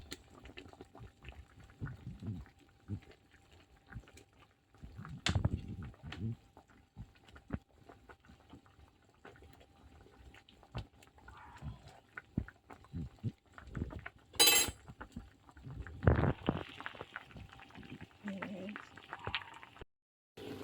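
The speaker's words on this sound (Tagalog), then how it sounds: "kumukulo na" Quiet bubbling of sinigang soup with eggplant simmering in a pot, with intermittent clatter and a few louder knocks.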